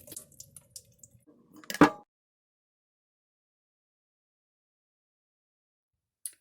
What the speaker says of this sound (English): Wet the paper with warm water. And then squish out all water as much as you can.